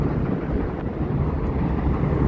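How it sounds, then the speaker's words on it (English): An elevated 7 subway train rumbles past overhead in Flushing, Queens, making a loud, continuous low roar that fills the whole moment. "it's coming from the 7 train that goes right above the ground."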